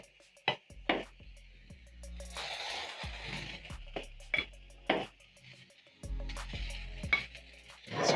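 Butter sizzles in a frying pan while stuffed crepes are made, a soft hissing fry broken by sharp clicks and knocks of a utensil against the pan, close and fairly quiet, with no talking.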